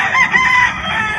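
A yellow-legged gamecock rooster crows once, loud and close, a sustained strained call filling the whole short moment with no talking.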